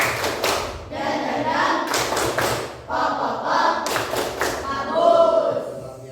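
An Indonesian primary-school class claps for a student, a burst of uneven hand claps and thuds with voices chattering through it, the clapping fading and returning in rough waves.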